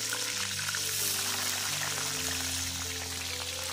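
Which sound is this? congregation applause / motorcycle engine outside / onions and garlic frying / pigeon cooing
onions and garlic frying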